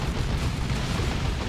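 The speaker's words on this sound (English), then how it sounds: "There's the explosion on death." A unit explodes on death in the video game Dawn of War 2, a loud rumbling burst of blast noise that rolls on steadily for over a second.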